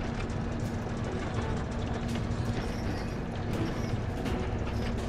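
The air purification unit in Final Fantasy 7 Rebirth runs with a steady clanking, ratcheting mechanical drone and rhythmic metallic clicks over a constant hum, faint and continuous.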